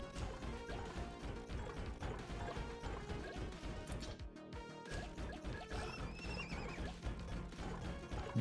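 Horse neighing in the video game Vampire Survivors, a whinny rising over a dense, loud mix of game music, clip-clop hooves and crashing impacts, with no talk.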